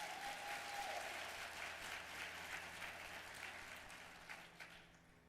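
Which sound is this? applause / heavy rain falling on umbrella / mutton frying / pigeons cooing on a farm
applause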